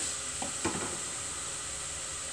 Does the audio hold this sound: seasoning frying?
yes